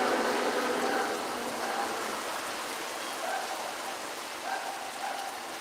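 Steady, dense rain falling at a campsite, hissing evenly on surfaces close by throughout, with soft patters rising now and then and no voices.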